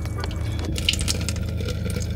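A weak trickle of water drips and dribbles in an RV trailer bathroom with very low water pressure, a steady soft splashing over a constant low hum, with no voices.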